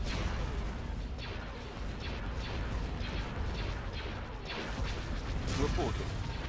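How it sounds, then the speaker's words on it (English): Laser cannon fire in a Star Wars First Order space-combat video game: a dense run of repeated blasts and crashing impacts, loud and continuous, over a steady noisy battle backdrop. "The laser cannons."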